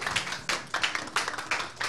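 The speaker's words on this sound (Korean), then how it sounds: "박수 한번" A handful of people clapping in a small studio setting, sparse uneven bursts of hand claps repeating in quick irregular clusters, fairly close and modest in volume.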